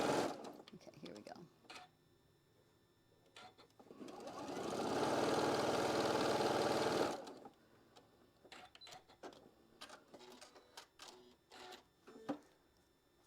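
Sewing machine stitching two quilt pieces together for a block-of-the-month quilt: a steady mechanical whirring run of about three seconds, close and fairly loud, with quieter handling clicks and rustles before and after.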